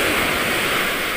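Rough, unsettled sea waves make a steady, close, broadband roar of surf that continues without a break for the whole short stretch, with no voices.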